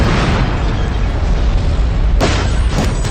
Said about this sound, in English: the absurdity of him calling out the gas tanks and then them just exploding as he's calling them out